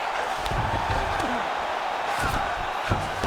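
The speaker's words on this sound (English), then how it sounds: "big pop from the crowd as they get back to their feet" Arena crowd in the UFC 5 video game on PS5 cheering through a Khamzat Chimaev versus Colby Covington fight, a constant loud roar with bursts of impact thuds and a voice underneath.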